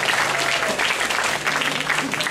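Steady applause from a crowd, loud and continuous throughout, with scattered cheers mixed into the dense clapping.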